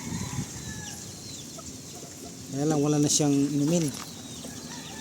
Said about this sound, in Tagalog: Tapos dito naman sa may palahi ang manok dito, inahin.